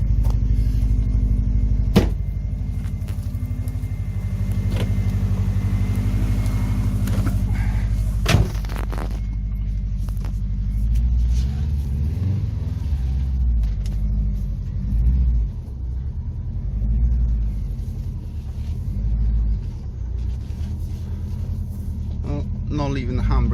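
An old car rumbles along after a cold start, low engine drone steady throughout with a couple of sharp knocks, while people talk over it.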